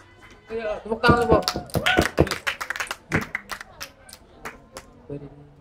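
A group of people at a stand-up comedy show clap their hands in scattered, uneven bursts mixed with voices and laughter, close and fairly loud, then fade as a voice resumes.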